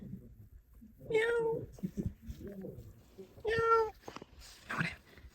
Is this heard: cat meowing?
yes